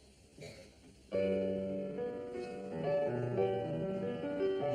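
A melodic tune begins on a keyboard instrument, sustained notes ringing out clearly one after another at a gentle pace after a brief quiet moment.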